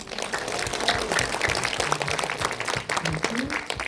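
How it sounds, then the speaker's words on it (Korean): Audience applause at a Q&A screening of the independent film about the Jeju 4.3 incident, steady dense clapping from a crowd that fills the room for the whole stretch, with a few voices mixed in. "박수 한번 했어요"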